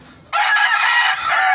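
A rooster, one of a keeper's chickens that is still wild, gives one loud, close crow that starts abruptly and holds its strained, wavering call through to the end, with no talk over it.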